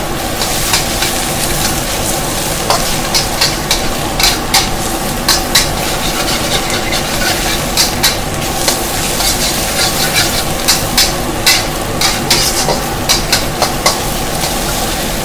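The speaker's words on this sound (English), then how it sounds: "And you really want to stir fry this properly before the noodles go in." Broccoli and kale stir frying in a hot pan, a steady loud sizzle with regular scraping and stirring clatter repeating throughout, no voices.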